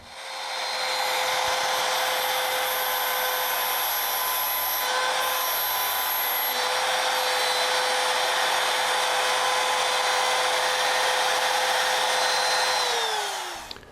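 A rotary tool fitted with a 1/4 inch ball burr bit grinds a groove in a drag race Powerglide transmission part, a steady high whine running unbroken for about thirteen seconds before winding down.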